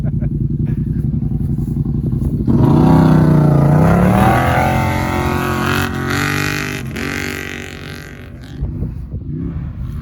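A Yamaha Rmax 1000 and an Arctic Cat Wildcat Trail side-by-side launch in a drag race from a steady idle into a loud, rising engine roar that sweeps up in pitch, then fades as they pull away, with excited voices over it.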